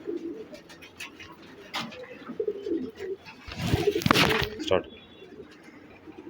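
Pure-bred pigeons from Tonk coo close by, the calls rising to a louder cluster in the middle, with a voice heard around them.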